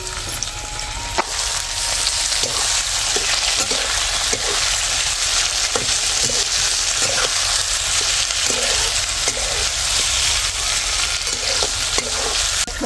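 Potatoes and then tomatoes sauté in a pan for a leafy vegetable bhaji, making a steady close sizzle with repeated scraping stir strokes throughout.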